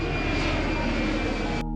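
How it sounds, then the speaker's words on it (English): Propeller aircraft engines roar loud and steady overhead, a continuous drone of fixed-wing fighter planes in a 1969 air raid on Honduras, cutting off abruptly near the end. "Fighter planes streaked across the borders, bombing airports and fuel depots"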